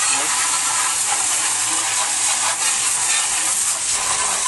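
A pressure washer sprays water across the inside of a stripped-down grill, a loud steady hiss that runs without a break from start to end.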